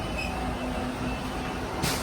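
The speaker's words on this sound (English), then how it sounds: "This is the tube." London Underground tube station with a steady low rumble of train and platform noise, a faint high whine and a brief hiss near the end.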